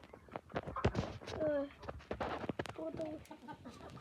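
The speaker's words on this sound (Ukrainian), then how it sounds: "Там півень." A rooster crows amid clucking chickens and other birds, with people talking nearby over the farmyard noise.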